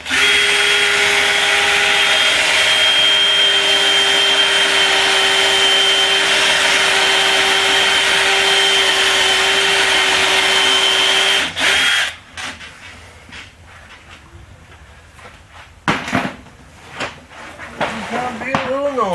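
A power drill bores a hole to cut out wood for a homemade spray booth, a loud steady whine running about eleven seconds before stopping, followed by scattered clunks and handling noises.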